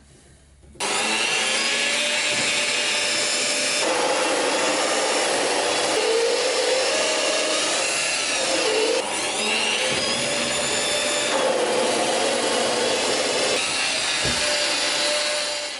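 A drill cuts steadily into a block of 2x2 wood to hollow out a tealight holder, working through progressively smaller bits. The motor drones loudly and close for about fifteen seconds, with brief dips in pitch and load as the bit bites, and no talking.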